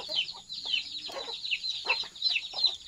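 Several chickens cluck in short, repeated bursts close by, overlapping in an uneven chatter with no talking.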